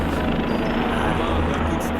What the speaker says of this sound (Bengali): ওই দেখো নিচ দিয়ে হেলিকপ্টার যাচ্ছে